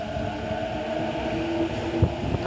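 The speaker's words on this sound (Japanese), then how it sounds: "京浜東北線大宮行き各駅停車発車してきました。" A Keihin-Tohoku Line local train departs Oimachi Station, low rumbling motor hum with a faint tonal whine and a soft clunk, no talking.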